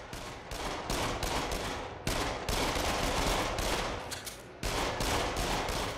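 Rapid gunfire from the VR shooter game Until Dawn: Rush of Blood comes as loud bursts of shots, broken by brief pauses, close and dense throughout.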